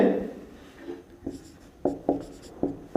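Chalk or marker strokes on a board while working a maths problem on rectangle area, a series of short scratchy taps and scrapes, close and sparse with brief pauses.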